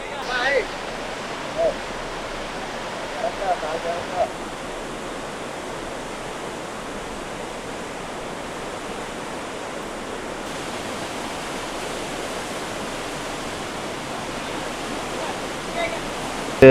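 Floodwater rushes around a temple whose front hall is submerged after heavy rain, a loud, continuous roar with a few faint bumps near the start.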